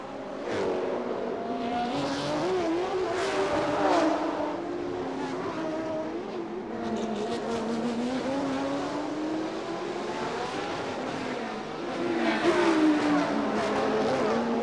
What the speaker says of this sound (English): Here are the Ferraris.